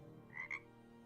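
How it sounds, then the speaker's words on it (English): A frog croak sound effect plays quietly over a low steady hum: two short, nasal croaks in quick succession, with no voices. "Right, stop with the frogs now."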